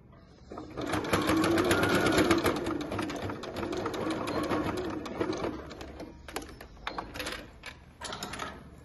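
A sewing machine runs in steady bursts as it stitches a tricoline fabric wallet. The motor whirs close and loud for several seconds, then it breaks into shorter starts and stops toward the end.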